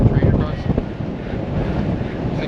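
Steady rush of wind buffeting the microphone high up on an abandoned railway trestle, with low rumbling gusts swelling and easing throughout; no clear voices stand out.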